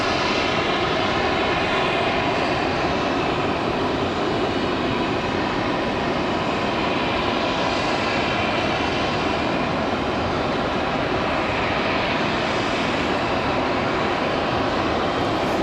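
Frontier airliner departing Raleigh-Durham International, its jet engines producing a sustained, loud roar with a steady tonal whine that holds without letup for the whole stretch, no voices over it.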